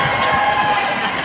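Sustained applause and crowd noise from an audience at a religious gathering in Kupang, NTT, a steady dense wash of clapping and voices without distinct individual claps.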